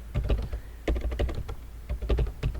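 Someone types on a computer keyboard while editing an HTML table, producing a quick cluster of close plastic key clicks in two short bursts, with no speech over them.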